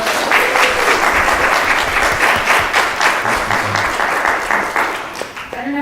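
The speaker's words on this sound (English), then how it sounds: "Can we give our panelists a round of applause?" An audience applauds a panel at a counseling alumni event, a dense, steady burst of many hands clapping up close that fades out near the end.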